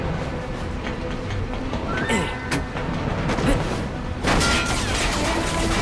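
Moving train in Crisis Core: Final Fantasy VII, a steady rumbling rail noise with clattering and bursts of gunfire layered over it, growing louder toward the end.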